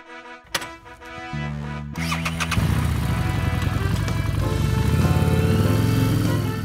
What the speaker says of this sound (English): Motorcycle accident?